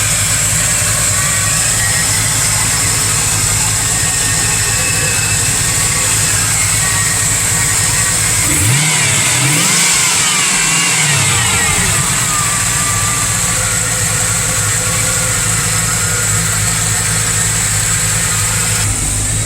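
A 1994 Chevrolet Caprice Classic LS with an LT4 V8 idles steadily from behind, then blips into one sharp rev around the middle before settling back to a loud, even idle.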